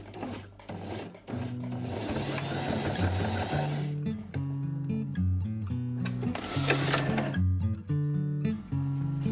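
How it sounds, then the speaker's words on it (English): A sewing machine stitching quiet book pages, a close, loud rapid mechanical whirr in steady runs that pause and restart, with clicking stops between bursts. "Now I will continue sewing till the corner."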